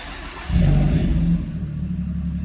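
A 2010-2012 Ford Fusion engine with an aftermarket exhaust rumbles at idle, then briefly revs louder with a deep, throaty exhaust note before settling back to a steady low drone.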